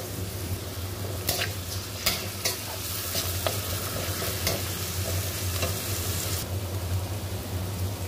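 Salted onions softening in a hot pan give a continuous sizzle, with a run of scraping stirring strokes in the first half that then drops back to plain frying, close and without speech.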